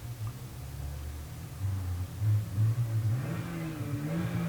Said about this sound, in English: Don't know if you heard that car.